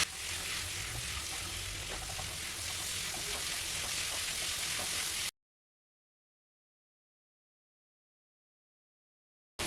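Shrimp fry with potato and cauliflower over a medium flame, a soft even sizzle for about five seconds before the sound cuts out to silence.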